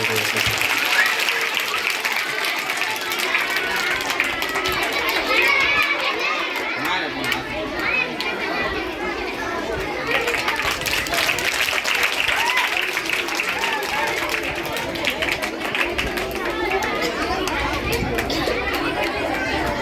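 A school gathering of children and staff claps, the applause blending with lively children's chatter and background commotion that runs continuously.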